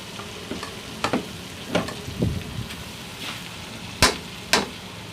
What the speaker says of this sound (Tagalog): igisa-gisa natin at para maging golden brown